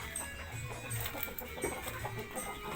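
Bangkok and village chickens kept on a small farm cluck softly in short repeated bursts, fairly faint and close, with a mother hen among them and no talk over the sound.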